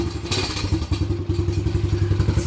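Small quad ATV engine idling roughly and unevenly after the choke is turned off, a close, loud pulsing chug with irregular thumps as if about to stall.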